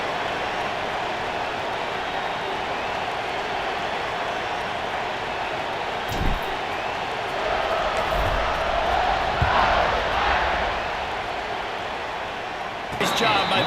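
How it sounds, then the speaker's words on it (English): A football stadium crowd in a video game keeps up a dense, steady roar after a score, with a commentator talking over it and a few thumps and swells in the noise. "this crowd is buzzing after that last score"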